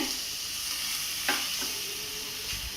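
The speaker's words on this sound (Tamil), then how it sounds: "தக்காளி எல்லாம் மசுற வரைக்கும் வதங்கட்டும்." Tomatoes sauté with biryani masala and chili powder in a pot, giving a soft, steady sizzle with a couple of stirring scrapes and no voices.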